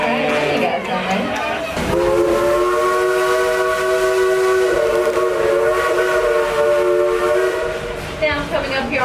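The Dollywood steam train sounds a long, loud, multi-tone whistle as it pulls out of the station. The whistle is held steadily with a brief break, and chuffing and crowd noise run underneath.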